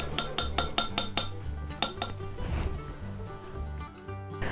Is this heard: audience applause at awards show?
no